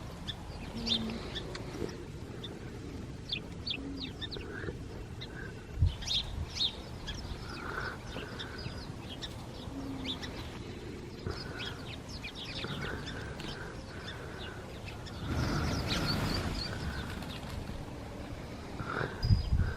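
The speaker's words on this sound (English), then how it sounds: "Crazy bird action." Birds call outdoors in mid-February: a scatter of short chirps and clucking notes, some near and some farther off, over a low background rumble, with a brief louder rustle near the end.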